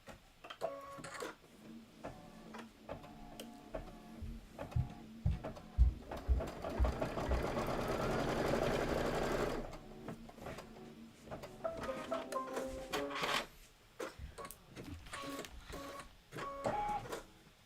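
A sewing machine stitches quilt fabric for a Kimberbell Life is Better in Full Bloom quilt, running in a close, steady mechanical whir with ticking and clicks before and after the run.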